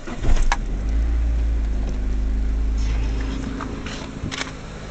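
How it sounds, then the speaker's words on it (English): A car engine running with a faulty AC pump and no exhaust fitted, idling as a loud, close, steady low drone with a rough mechanical edge and a few sharp knocks near the start. "My AC pump isn't functioning properly, so that's what the noise is coming from."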